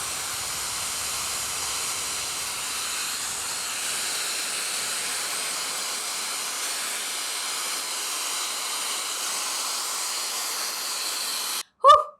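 Shark FlexStyle air styler blowing on long hair, a steady loud airy hiss and whoosh running unbroken for about twelve seconds before cutting off, with no speech.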